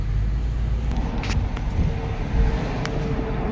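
Steady road traffic rumble from cars moving along a busy highway while merging near an airport, continuous and moderately loud without any speech.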